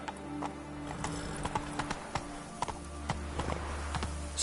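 Roach the horse gallops in The Witcher video game, with steady rhythmic clip-clop hoofbeats close by and moderately quiet, with no talking.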